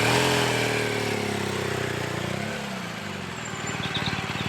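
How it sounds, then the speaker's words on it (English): A motorbike pulls away using clutch and a little accelerator, its engine idling with a low throbbing rumble that dips and then rises into a faster pulsing beat as it moves off, close and alone. "I'm going to pull forward now, using the bike, the clutch, and a little bit of accelerator."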